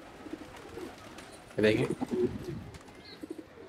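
Pigeons coo near a scattering of millet grain, with a brief louder burst in the middle and someone speaking a word over it.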